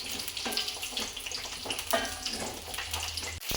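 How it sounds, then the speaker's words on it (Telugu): Masala eggplant frying in a pan over lower-than-medium heat, a steady close crackle and sizzle with small stirring clinks and no one talking. "మీడియం కన్నా తక్కువగా మనం ఫ్రై చేసుకోవాలి"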